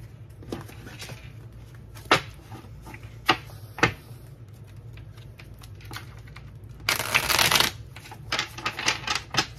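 Cards being shuffled by hand: scattered sharp flicks and taps, then a dense riffling burst near the end followed by a few more quick snaps, fairly close.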